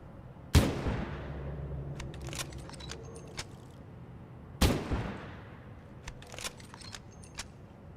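Two loud, sharp gunshots about four seconds apart, each with a ringing tail, fired from a weapon in the survival game Abiotic Factor, with faint clicks and rattles from handling in between.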